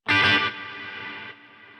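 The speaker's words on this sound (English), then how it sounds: "it's pulsing that reverb, it's ducking it, and then the reverb itself is just naturally decaying" Distorted guitar chord run through a Quad Cortex reverb that a sawtooth waveform ducks and pulses, starting with a loud burst and then stepping down into a sustained, shimmering decaying tail, with no voices.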